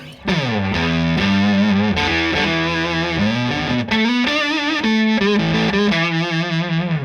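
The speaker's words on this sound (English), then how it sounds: "Let's listen to the mini Fuzz Face." Electric guitar played through a Dunlop mini Fuzz Face pedal, thick distorted fuzz tone with sustained notes and melodic lead lines, loud and steady, no talking.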